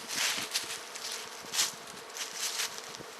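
Honey bees around a beehive during spring hive work, a close, dense buzzing swarm with fluctuating loudness and occasional louder passes, no talking.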